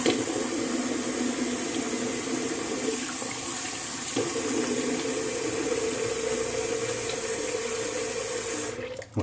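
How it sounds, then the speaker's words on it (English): Cold water runs steadily from a tap into a sink, a constant splashing flow that continues for several seconds before cutting off near the end. "So I'm going to do a cold water rinse."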